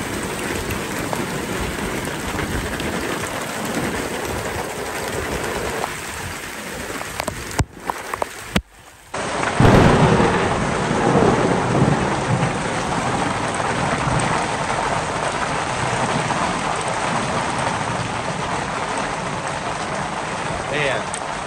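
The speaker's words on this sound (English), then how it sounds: "I've been in a storm like this in a while." Heavy rain pours down on a campsite awning during a storm, with a loud roaring wash of rain and a rumble of thunder partway through, while someone talks.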